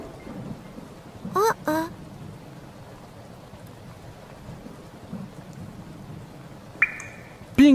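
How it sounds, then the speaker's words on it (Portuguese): Rain patters softly in a children's cartoon about a truck, with low rumbles of thunder underneath; the sound stays fairly quiet, and short voice bits cut in. "Está chovendo."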